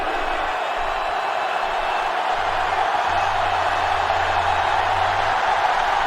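Steady roar of a stadium crowd in NCAA Football 09, a loud, continuous wash of cheering that holds throughout with a low rumble underneath.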